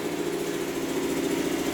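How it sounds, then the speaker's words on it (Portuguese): A tractor rumbles steadily nearby, a continuous droning engine hum with no clear rise or fall, heard alone without talk. "Passando um trator aqui."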